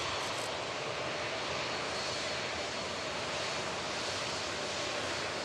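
A TUI Dreamliner airliner taxis at Manchester Airport after landing from Cancun, its engines giving a steady, loud, continuous roar with broadband rushing noise throughout, no talk.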